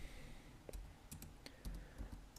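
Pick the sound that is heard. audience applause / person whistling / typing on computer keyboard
typing on computer keyboard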